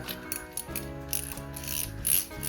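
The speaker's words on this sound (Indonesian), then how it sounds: "Suara dari clickernya kencang sekali ya." Loud, fast clicking of the clicker on a Daido Kuruma BCC 2000 spinning fishing reel, a close mechanical ratchet rattle running steadily with brief surges, no voices.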